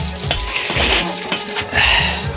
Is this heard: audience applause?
no